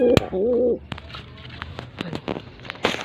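A pet pigeon gives a short, wavering coo up close, followed by scattered clicks, rustles and small knocking sounds.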